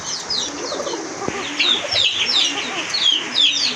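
Domestic pigeons kept for sale in a loft call repeatedly, with low throaty cooing under a busy layer of higher chirps and calls from several birds nearby, plus an occasional flutter.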